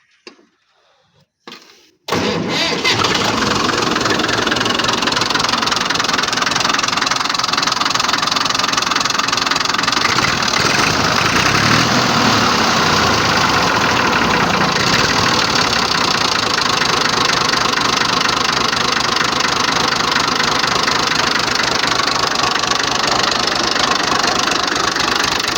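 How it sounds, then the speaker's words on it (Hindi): A Massey Ferguson 240 tractor engine cranks with the self-starter, catches after about two seconds and settles into a loud, steady diesel idle with a knocking rumble that runs unbroken. "आप सेल्फ मार के आपको इसकी स्टार्टिंग चेक करवाते हैं।"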